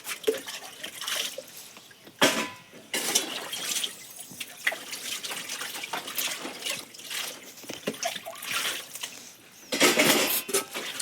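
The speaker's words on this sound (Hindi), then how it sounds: "तो मैं पूरे बर्तन में जल्दी धुल लेती हूँ।" Dishes being washed by hand at home: water runs and trickles in bursts while metal pots and utensils clatter and scrape, with louder splashes and rinsing at intervals.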